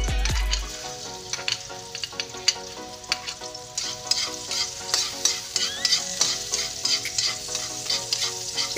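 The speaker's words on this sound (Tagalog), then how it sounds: "Unahin natin gisa ang bawang." Garlic sautés in a hot pan with a bright, crackling sizzle, broken by frequent sharp utensil clicks and stirring scrapes, close and with no talking.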